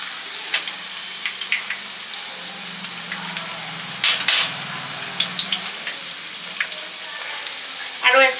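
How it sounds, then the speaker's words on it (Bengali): Chicken satay frying in a pot of oil gives a steady close sizzle, with brief louder crackles and bubbling bursts around the middle and at the end as pieces are added. "তাই আমি 4টে চিকেন স্যাটেই প্রথমে ভাজবো।"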